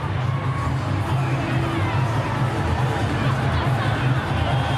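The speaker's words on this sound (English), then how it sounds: "There's still plenty of voice amongst this crowd" Rugby crowd at Eden Park, Auckland, during Samoa versus Scotland, a dense continuous roar of cheering and chanting voices filling the stadium at steady volume.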